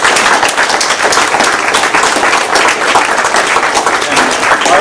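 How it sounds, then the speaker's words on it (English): Loud, continuous applause from a conference audience, dense clapping sustained for several seconds with no speech over it. "So if folks could please give them a round of applause."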